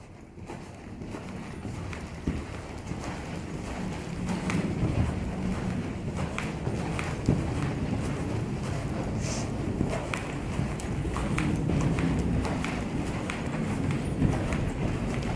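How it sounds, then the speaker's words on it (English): Horse cantering in an arena, a steady rhythmic drumming of hoofbeats on soft footing, moderately close, with light wind noise. "And then canter in the next corner. Sit up, canter."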